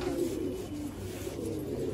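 Soft pigeon cooing drifts in over a quiet outdoor background, low and gentle, with no one speaking.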